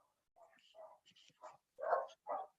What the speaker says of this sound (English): So I love that my dogs choose to bark right now as soon as I start talking.